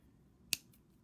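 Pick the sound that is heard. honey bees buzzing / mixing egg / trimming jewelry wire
trimming jewelry wire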